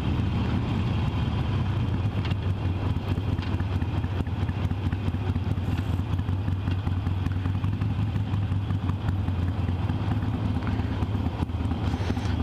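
A Harley-Davidson 883 Iron motorcycle accelerates along the BR 101 highway, its engine a steady, loud low-pitched rumble mixed with wind and road noise, continuous throughout with no speech.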